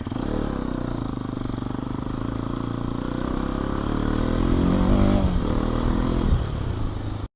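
A Hero XPulse motorcycle engine runs continuously, revving and rising in pitch midway, with rattling clatter over rough off-road ground; no talking.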